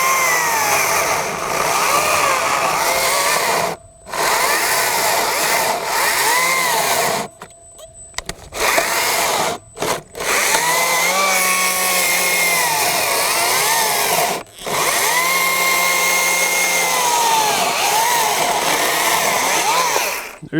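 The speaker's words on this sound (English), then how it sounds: "Now we've cut significantly more with the Wild Badger." A Wild Badger 40-volt cordless chainsaw cuts through wood, loud and close, its high whine surging under load in long bursts broken by brief pauses as the trigger is released.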